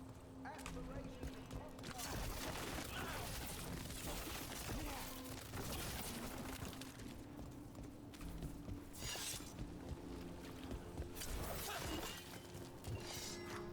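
Breakable objects shatter and crash in Dragon Age: The Veilguard, a run of busy, dense smashing bursts layered over game ambience and footsteps.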